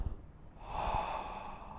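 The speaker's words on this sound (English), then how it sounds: "take a deep breath in again, feeling the bottom of your lungs right here, and breathe out" A slow, deep breath drawn in and let out through the mouth in a beginner saxophone breathing exercise, a soft airy inhale then a longer warm, breathy exhale, close and alone.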